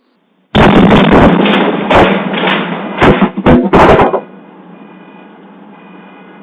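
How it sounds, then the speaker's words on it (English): A chemical plant explosion at Port Neches, Texas, reaches a house as a sudden loud blast caught on a doorbell camera, followed by several heavy rattling thumps and bangs over about four seconds before fading to a low hum. "captures the exact moment a plant in Port Neches in Texas exploded"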